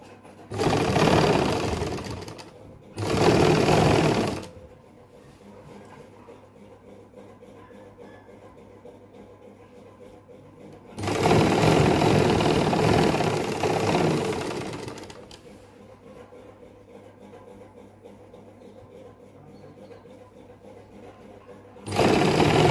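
A sewing machine stitching fabric piping for a garment hem runs in loud, close bursts: two short runs, a long run of several seconds, then another starting, separated by quiet pauses with no talking.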